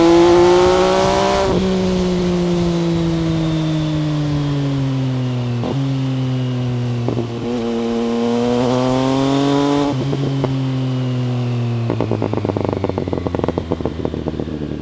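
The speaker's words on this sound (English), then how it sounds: "The engine loves to rev, the throttle is sharp, the quick shifters make this bike so dynamic and raw." An MV Agusta Brutale 800 naked motorcycle revs hard and close, its engine pitch climbing and dropping in repeated sweeps, then breaking into a rapid crackling burst at the end with no talk over it.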